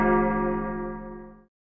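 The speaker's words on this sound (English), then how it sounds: "Bells tolled over the city, announcing the end of curfew." A single church bell tolls once in a video game as curfew ends over a city, ringing with a long decaying resonance for over a second before cutting off.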